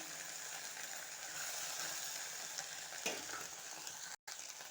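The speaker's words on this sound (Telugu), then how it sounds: "ఇలా మంచిగా నూనెలో గోలుచుకోవాలి" Okra (bhindi) fries in oil in a pan with a soft, steady sizzle lasting a few seconds, and a light scrape or two from stirring; no voices.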